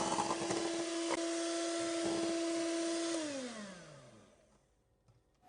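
Electric hand mixer beating cake batter with powdered sugar, a steady close whirring motor drone that holds for about three seconds, then winds down and fades to near silence.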